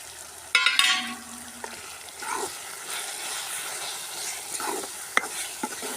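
Onions and masala powder fry in a pan for masala chapati, heard as a soft continuous sizzle with scraping stirs and occasional clatters of a utensil, a brief louder clank near the start.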